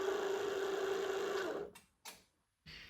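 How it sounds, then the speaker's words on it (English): A Nice Apollo 816 swing gate actuator motor runs with a steady, faint hum for about a second and a half, then cuts off, followed by two brief mechanical clicks or clunks in the quiet. "So I'm going to go ahead and stop the motor now."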